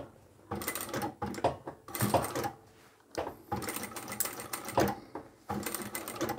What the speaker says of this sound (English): When I get to the bottom edge of the green, I'm just going to do that diagonal stitch and meet up to where I started.